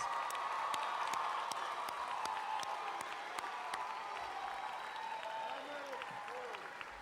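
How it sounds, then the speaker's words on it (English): A high school graduation crowd gives its teachers a sustained round of applause, dense continuous clapping with scattered sharp claps and faint cheers, steady throughout with no speech. "Let's give your teachers a huge round of applause."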